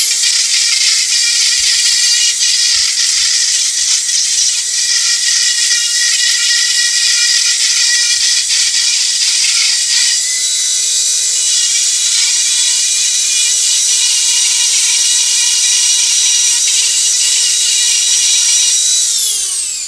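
A Dremel rotary tool carves wet wood with a high, whining steady spin that stays loud and close for about twenty seconds, shifting slightly in pitch as it bites, then winds down at the end.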